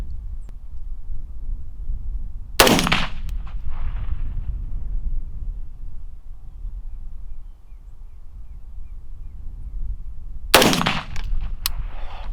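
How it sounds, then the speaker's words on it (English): Two loud, sharp gunshots from a rifle fitted with a red dot sight and zeroed at 50 yards, fired outdoors about eight seconds apart, each cracking close and decaying quickly over low wind rumble. "So this is the 50-yard gun, shot at 50 yards."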